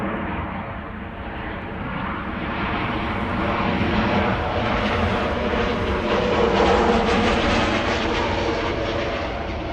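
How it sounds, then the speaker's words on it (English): A KLM Boeing 737-800 airliner arriving at Amsterdam Schiphol from Stavanger gives a steady, broad engine roar that swells slightly midway and holds, with no voices over it. "This is KLM Flight 1176 arriving from Stavanger. That's 737-800."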